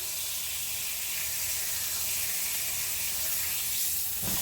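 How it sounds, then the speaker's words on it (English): Pork tenderloin searing in a hot pan, a steady broad sizzling hiss that holds evenly throughout, with no talk over it. "The pork is basically seared."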